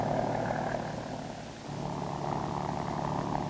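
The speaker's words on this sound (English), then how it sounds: "One, designed by Lycoming, is used in this Kamen HOK." A Kaman HOK helicopter powered by a Lycoming turbine engine whirs faintly, a low throbbing rotor drone with a steady hum, dipping briefly before holding on.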